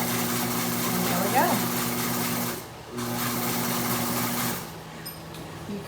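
A Consew industrial sewing machine runs with a steady, close motor hum and needle rhythm, pausing briefly while reversing to lock a stitch, then stopping; a person talks over it.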